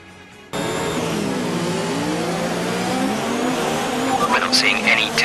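A Formula 1 car in the F1 2019 racing game bursts from silence into a full-throttle start, its high engine whine rising through quick upshifts, loud and steady, with faint tire and pit-radio noise creeping in late.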